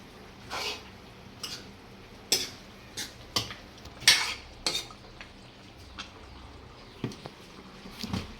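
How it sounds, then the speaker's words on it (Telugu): A spoon stirs mutton in a cooking pot, giving intermittent scraping clinks against the metal at an uneven pace, fairly quiet and close. "మటన్ వేసాక మొత్తం తిప్పుకుందాం."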